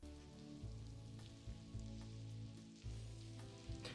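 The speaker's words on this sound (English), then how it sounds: "For a second, I thought that was supposed to be a shower sound effect, but I assume that's rain." Rain patters in the point-and-click adventure game The Blackwell Convergence, a soft, steady hiss of falling drops under quiet low tones, faint and without speech.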